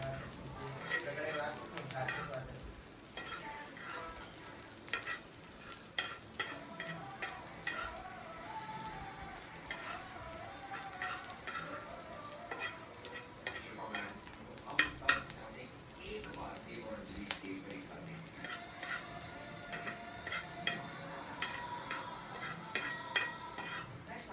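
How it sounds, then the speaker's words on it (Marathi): Onions sautéing in a pan for a spicy mutton curry, with a steady low sizzle and frequent stirring scrapes and clinks of a utensil throughout, no talking. "त्यासाठी ते चांगला कांद्याचा कलर बदलेपर्यंत मी परतून घेणार आहे।"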